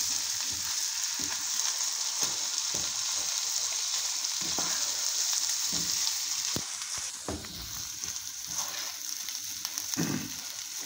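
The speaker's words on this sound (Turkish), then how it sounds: "Yağla kavurmaya başlıyoruz." Rice and bulgur sauté in oil in a pan, giving a steady close sizzle and crackle with soft stirring scrapes throughout and no voices.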